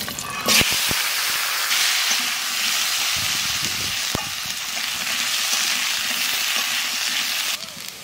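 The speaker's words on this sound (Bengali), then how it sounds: "মাছ ভাজা তেলের মধ্যে আলু কয়খানা ভেজে নেব।" Potato pieces fry in hot oil left over from frying fish, a steady loud sizzle broken by a few sharp clatters of stirring in the pan.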